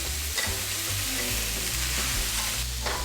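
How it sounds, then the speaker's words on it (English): Sliced onion and garlic sizzle and fry with potatoes in a pan for spicy braised potatoes, a steady crackling hiss with faint stirring scrapes throughout, close and moderately loud, no voices. "Add sliced onion and garlic to the pan and cook for additional 3 minutes."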